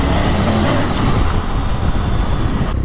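A big BMW motorcycle's engine drones loudly while riding on a road, a steady close rumble with rushing wind noise and no talking.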